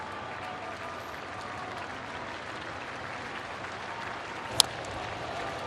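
A sellout baseball crowd at a Sunday Dodgers–Cardinals game rises as one, and steady applause and cheering roll on as a dense, even wash with one sharp spike near the end.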